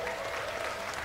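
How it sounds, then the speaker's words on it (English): Audience applause at a bouldering finals competition, a short dense burst of clapping from a crowd, heard alone without talk. "Everyone's clapping for us."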